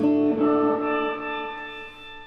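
Electric guitar through a Hotone Octa octave pedal: a single sustained chord rings out with thick octave-doubled harmonics, slowly decaying and alone.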